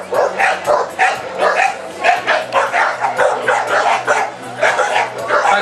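Many dogs at a dog show bark and yip repeatedly in overlapping bursts, loud and close, with a low steady hum underneath throughout.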